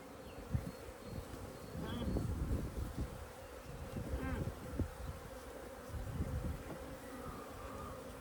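Honeybees buzz in a dense, continuous drone during a top bar hive inspection, close by, with soft knocks and handling noises of frames beneath the swarm's hum.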